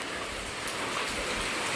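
Steady rain pours outside in the wind, a dense continuous hiss with no pauses.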